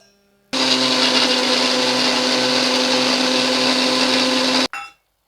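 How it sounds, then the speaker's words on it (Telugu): A kitchen mixer grinder whirs loudly and steadily for about four seconds as it grinds fried coriander seeds and pepper, starting and cutting off abruptly. "ఫ్రై చేసిన ధనియాలు అలానే మిరియాలు వేసి దీన్ని మాత్రం మనము మిక్సీ పట్టుకోవాలి"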